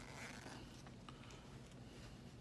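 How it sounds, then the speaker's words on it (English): A quiet, raspy zipper being pulled open, a soft continuous scratchy run with small ticks, heard close and alone. "I'm gonna unzip it."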